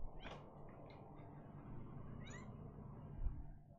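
A cat meows a few times at moderate distance, short rising cries over a low background hum.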